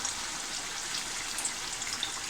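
Chicken pieces deep-fry a few at a time in hot oil over a medium flame, giving a steady, even sizzle and crackle that runs close and continuous throughout, with no talking.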